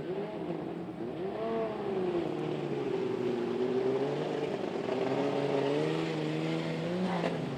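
Brisbane Sedans race cars at Archerfield Speedway roar steadily around the track, a sustained engine drone with rising and falling pitch as they accelerate, continuous and fairly loud without speech.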